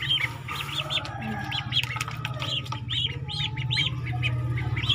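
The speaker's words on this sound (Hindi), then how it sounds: "दो बत्तखों के बच्चे लिए थे" Ducklings peep in quick, high-pitched chirps, repeated in an uneven run over a steady low mechanical hum.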